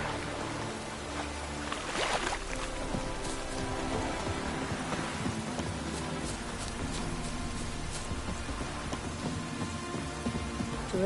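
Steady rainfall patters on a surface, a dense continuous wash with scattered drops and a low rumble beneath, holding an even level throughout with no voices.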